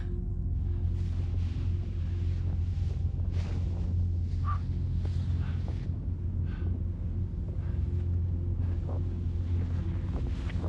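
Steady wind rumbles and buffets the microphone throughout during a paragliding flight, a constant low roar with faint creaks and flutters on top, no voices.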